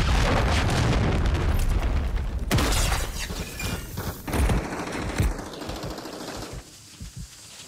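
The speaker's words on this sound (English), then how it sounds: "Friendly cruise missile" A cruise missile strike in the Call of Duty video game, a dense and loud blast with crackling debris and a rumbling roar that fades over several seconds.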